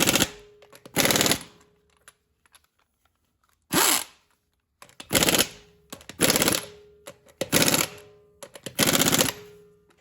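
Lug nuts on a 2017 Dodge Ram 1500 front wheel are driven tight with an impact wrench in a crossing pattern, several loud rattling bursts of about half a second each, separated by short pauses.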